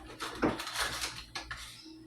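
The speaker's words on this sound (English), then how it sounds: "we'll sit there and get this mixed up first. Give it a good stir." Beans stirred in a metal pot, a short burst of close scraping and clattering of a spoon against the pot, fairly quiet and alone.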